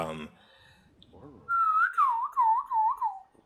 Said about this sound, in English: Oh, that radio sound.